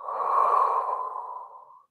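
A single long exhale during a mat Pilates exercise, a steady breathy rush of air that fades out over about two seconds, close and alone.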